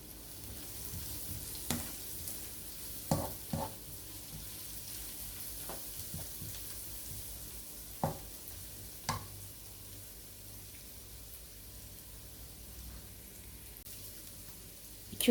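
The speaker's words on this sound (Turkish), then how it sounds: "ve bir de ki kekil yotu biraz ilave edirəm. Karıştırıram." Thyme being stirred into food in a pan, giving a soft steady sizzle with a few sharp scrapes and taps of a spoon against the pan, close and fairly quiet, with no talk.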